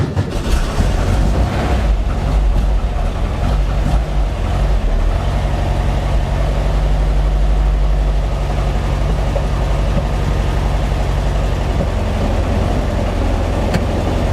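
A Speedster car engine idles loudly in a steady, dense rumble, settling after about five seconds into an even, humming idle with no one talking.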